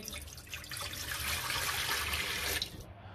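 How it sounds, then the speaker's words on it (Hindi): Water pours steadily into a pressure cooker in a continuous rushing stream for a few seconds, then stops abruptly. "सबसे पहले प्रेशर कुकर में 1 गिलास पानी डालेंगे जी।"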